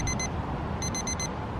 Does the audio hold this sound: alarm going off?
yes